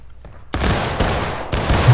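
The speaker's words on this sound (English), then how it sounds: "Take aim, boys. And fire." A regiment fires a musket volley in the War of Rights Civil War game, in three loud ragged bursts of overlapping shots about half a second apart. Each burst rolls into echoing reverberation.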